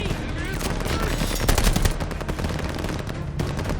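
Machine gun fire in the video game Operation Tonga: a dense, continuous burst of rapid shots with overlapping gunfire, loud and close, with shouted voices mixed in.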